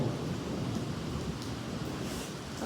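Rain pours steadily with a low thunder rumble beneath it during a village storm, a soft even wash heard at a distance without any voices.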